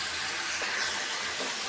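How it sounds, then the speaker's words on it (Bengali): Marinated biryani meat with yogurt braises in a pot on a stove, giving a steady, soft, hissing sizzle that holds evenly throughout. "এখন যে আমি বিরিয়ানির গোস্তটাই যে কষাই নিতেছি"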